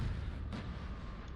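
Cannon artillery fire in Napoleon: Total War rumbling as a dense, continuous low-end roar, with a sharper distant boom standing out about midway through the short stretch.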